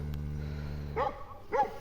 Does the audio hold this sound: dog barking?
yes